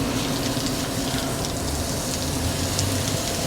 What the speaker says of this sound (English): It rained all night last night, so that's their gutter is dripping.